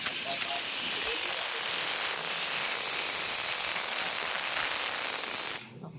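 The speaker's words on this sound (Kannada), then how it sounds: "ನೆಕ್ಸ್ಟು ಇದು ಇನ್ನೊಂದು ವಿಷಲ್ ಹೊಡಿಸ್ತಾ ಇದ್ದೀನಿ" A pressure cooker whistles as it vents steam while tomato bath cooks, a loud, steady hiss lasting several seconds before cutting off abruptly at the end.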